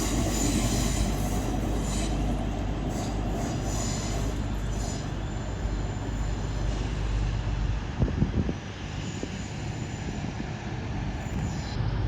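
A pair of EMR Class 360 electric trains pulls out of London St Pancras with a rising rumble and steady wheel clatter, with brief squeals and clunks near the middle, close and loud in the station.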